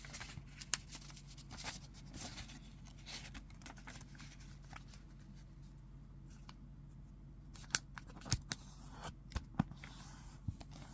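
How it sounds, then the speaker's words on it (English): Sheets of paper being folded and creased for an origami evergreen tree, soft close rustles with several sharp crisp snaps of paper amid a quiet hum. "Unfold it, flip it over, then fold it in half to make a rectangle."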